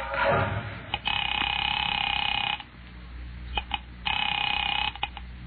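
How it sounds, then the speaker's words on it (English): Old telephone effect in a radio drama: a clunk as the receiver is lifted, then two steady tone stretches broken by soft clicks of dialing, narrow and boxy in sound, with no voices. "Picking it up quietly, I dialed my daughter's number, Alec Bartlett's wife."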